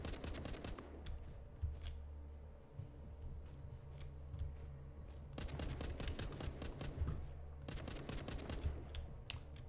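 Repeated gunfire from the Walking Zombie 2 mobile game, with rapid bursts of shots in clusters and single cracks between them over a steady low game hum.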